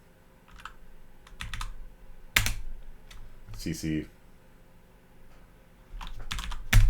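Computer keyboard typing commands, with short bursts of clicking keystrokes separated by pauses and a few sharper key strikes, close and moderately loud; a person speaks briefly between the bursts.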